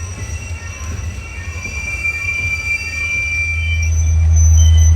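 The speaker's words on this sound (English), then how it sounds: "providing extra power to help control the train as it rumbles its way towards Altoona" Heavy coal train rolling downhill toward Altoona with helper locomotives at the rear, a deep steady rumble with sustained high wheel squeal and a low engine drone that swells louder toward the end, close by with no voices.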